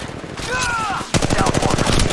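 Rapid automatic gunfire in Apex Legends Mobile, a dense burst of close, loud shots following a short stretch of game sound.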